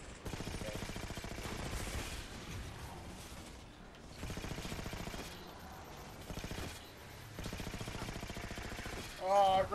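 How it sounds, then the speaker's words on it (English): Bursts of rapid gunfire from the binary rifle in the Halo 4 video game on Legendary difficulty, loud and sustained with brief pauses, mixed with game sound effects and a sharp tone near the end. "The binary rifle."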